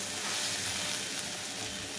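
Soybean chunks frying with spices in a pan make a steady, fairly soft sizzle with faint stirring texture, close and continuous for the short stretch, no one talking.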